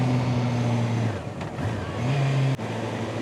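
Motorcycle riding on an expressway, engine drone with a steady tone that shifts pitch as it accelerates, under constant wind noise, with a brief bump.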